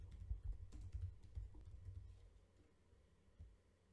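Someone types on a computer keyboard, making soft, quick, close key taps in an uneven rhythm that thin out toward the end.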